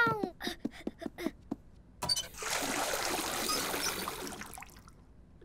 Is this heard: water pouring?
yes